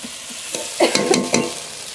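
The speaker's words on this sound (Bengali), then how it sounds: "মশলা খুব ভালো করে কষিয়ে নিয়েছি।" Spice paste fries in a pan while being stirred, giving a brief, close, loud sizzle with a few quick scraping strokes.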